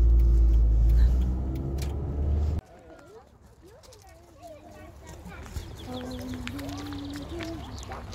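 A car drives up to a tarantula show venue, a loud low engine and road rumble dominating at first before cutting to a quieter interior, where people chatter and soft clinks and movement follow.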